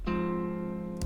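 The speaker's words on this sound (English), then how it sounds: "That's a first inversion. Sounds like this." A single first-inversion triad rings out once, sustained and steady for about a second before cutting off.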